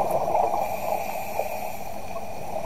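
Air bubbles rising from a diver underwater, a steady faint gurgling burble over a muffled underwater hum, continuous and unbroken with no voices.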